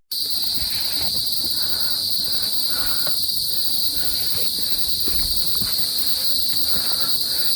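Wild crickets chirping at night on a mountain hiking trail on Mount Ungaran, a steady shrill insect chorus throughout, with faint footsteps and rustling underneath.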